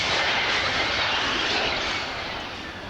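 A jet airliner landing at RAF Abingdon airshow in 1990, heard as a loud, broad engine roar with rushing air that holds steady and then slowly fades over a few seconds, no voices.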